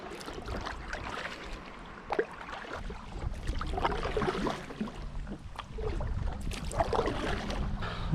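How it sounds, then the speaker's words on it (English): Wind rushes steadily past a small boat on a small river, a close buffeting roar with occasional gusts and faint water sounds. "There's our wind."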